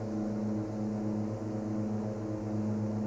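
Steady propeller drone of a Twin Otter plane climbing after takeoff in a flight simulator game, a continuous loud engine hum with strong low harmonics and no talk.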